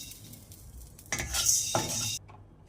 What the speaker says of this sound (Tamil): இது எல்லாமே ட்ரையாக தான் ரோஸ்ட் பண்ணணும் மிளகு போட்டு கொஞ்சம் இஞ்சி